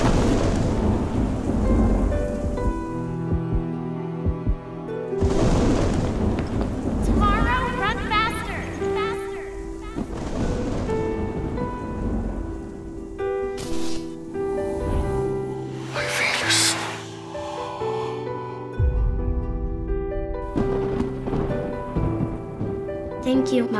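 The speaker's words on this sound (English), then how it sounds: "The storm is coming." Thunderstorm with heavy rain and rumbling thunder, loud and continuous, layered under dramatic trailer music with sharp crashes mixed in.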